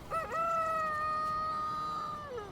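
Chickens in the Valheim video game give a single drawn-out, crowing-like squawk, clear and fairly quiet with no talk over it.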